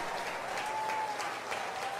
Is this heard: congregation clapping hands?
yes